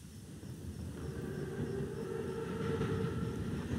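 A German armored train approaches in the Call of Duty WWII video game, a steady low rumble with a faint high whine that slowly grows louder throughout, with no voices.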